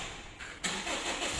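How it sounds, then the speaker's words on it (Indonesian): Used ex-taxi car being cranked by its starter motor, a brief starter whir that breaks into a louder, broadband catch of the engine firing and settling, close up and without talk. "Di interior teman-teman bisa cek untuk start up dulu ya, starter mobilnya ya."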